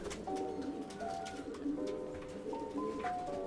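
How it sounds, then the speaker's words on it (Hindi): Rampuri pigeons coo in a steady, overlapping chorus, soft low burbling calls close by with a few faint higher notes, continuous throughout and without talk. "ये रामपुरी कबूतर है"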